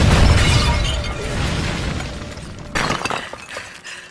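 A bomb blast in an action film: a loud, broad roaring burst right at the start that rumbles and fades, followed by a second sharp crash of debris partway through, all without speech.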